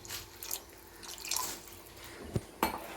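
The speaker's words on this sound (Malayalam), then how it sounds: "കുറച്ചും കൂടി വെള്ളം ഒഴിച്ചു കൊടുക്കാം." Water trickles and drips into a fish curry in a pan, a faint, close pouring with a few sharper splashes near the end and no talking.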